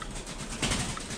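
Thai Titan pigeons at a pigeon farm in Hai Duong, Vietnam, giving soft low cooing with a faint rustle, heard at modest level against quiet background ambience and with no talking.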